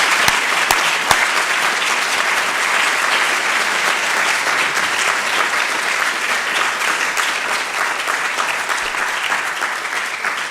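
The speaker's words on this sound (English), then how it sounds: "An applause for our panel." A conference audience applauds a panel at the close of a session. The clapping is sustained and even across the whole stretch, a dense wash from a sizable crowd at moderate distance, with a few sharper claps near the start.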